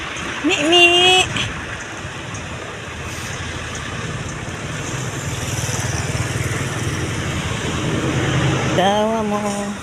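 Steady rain keeps up a constant rushing hiss on surfaces, with a low rumble beneath it; a voice speaks briefly at the start and again at the end.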